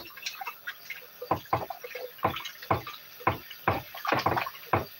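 Chicken wings are rinsed in water, giving a run of irregular close splashes and sloshes with quieter trickling between them.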